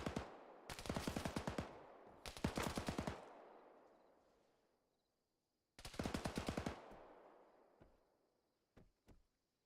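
Bursts of automatic rifle fire ring out in an ARMA 3 winter night mission, loud rapid volleys each trailing into a long echoing decay, followed by a few single distant shots.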